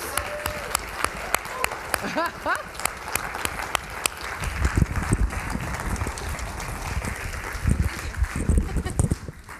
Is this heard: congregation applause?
yes